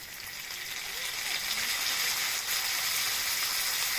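Ground spice paste hitting hot oil in a pan with fried potato and eggplant gives a steady, fairly loud sizzle. It hisses continuously and rises slightly after the first second, with no voices.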